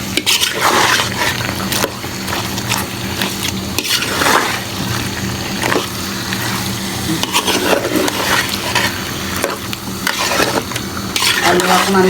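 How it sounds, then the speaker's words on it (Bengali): Potatoes are stir-fried with beef in a pot, sizzling steadily under repeated scraping and clanking spoon strokes that come in an uneven rhythm, loud and close, with no talking. "আলু এখন আমি মাংসের সাথে কষে নিচ্ছি।"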